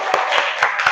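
Students in a classroom clap together, four sharp, evenly spaced claps in quick rhythm within about a second, close and fairly loud.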